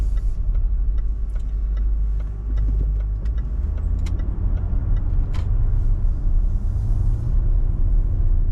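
A Range Rover L405 drives on the road during a test drive, giving a steady low tyre and engine rumble with occasional faint ticks and knocks and no talking.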